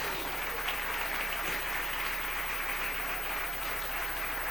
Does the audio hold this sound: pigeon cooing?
no